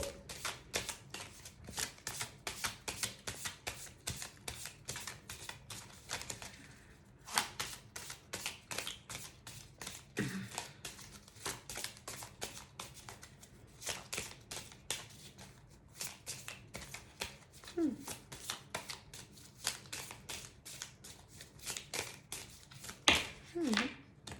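A deck of handwritten oracle cards is shuffled close by in a long run of quick riffling, papery flicks, with brief pauses between bursts and occasional quiet speech.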